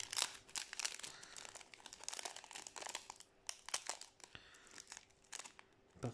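Foil wrapper of a Yu-Gi-Oh trading card booster pack crinkling and tearing open up close, a busy run of rustles, rips and crunches that fades and swells with no talking.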